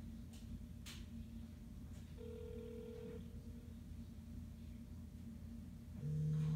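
A smartphone rings from an incoming call after sitting inside a homemade cheap Faraday cage. A faint, steady electronic tone sounds twice over constant background hiss.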